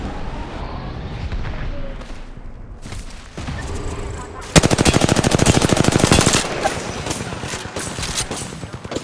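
Rapid machine-gun fire from rampart guns in a video game hammers out a long, loud, steady burst over a rumbling game soundscape, with a voice speaking earlier.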